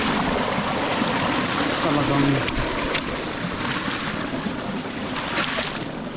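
Strong water gushes and rushes through a garden in a continuous, loud wash of sound, with a person speaking over it.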